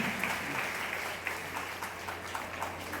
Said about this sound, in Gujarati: હવે બીજો જોરદાર તાળીઓ થઈ જાય હાર્દિકભાઈના સન્માન માટે.